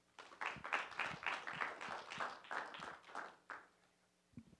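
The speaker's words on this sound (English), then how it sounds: "a welcome applause for Ashley Calvert" Audience at an idea pitch competition applauding to welcome the next presenter, a moderate burst of clapping that fades out after about four seconds, followed by a brief pause.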